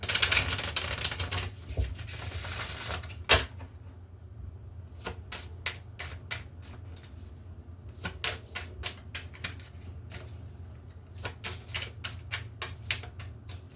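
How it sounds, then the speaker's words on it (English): A soft rush of riffling cards opens, followed by a string of crisp taps and clicks as cards are handled and squared, close and quiet. "Difficult shuffle."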